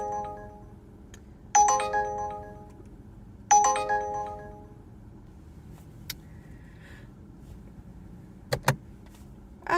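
An Uber Eats app alert tone on a phone inside a car, two bright chiming bursts a couple of seconds apart, clear and close over quiet cabin hum, followed by a few faint clicks.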